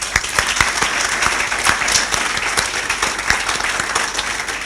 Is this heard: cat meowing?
no